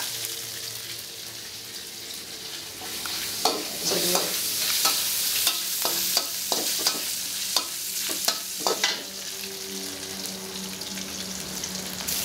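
Spaghetti for a salted-fish pasta is tipped into a pan and stirred, a continuous frying sizzle broken by a run of clattering utensil scrapes and knocks in the middle, with no voices.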